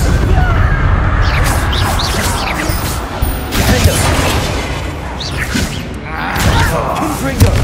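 Bombarda blasting-spell explosions in Hogwarts Legacy, heavy booms and crashing thuds over a rumbling fight, with voices speaking over the clatter.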